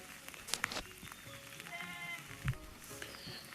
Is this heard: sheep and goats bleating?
yes